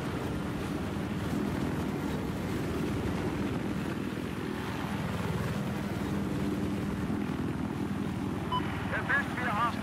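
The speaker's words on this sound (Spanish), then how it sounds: "Oh, con el helicóptero." A helicopter in the video game Battlefield 4 drones in a steady, dense rotor hum throughout, with players talking over it.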